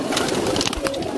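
Soft coos from Shahjahanpuri and Deobandi pigeons murmur against a busy background of fluttering and shuffling, with several birds vocalizing close by.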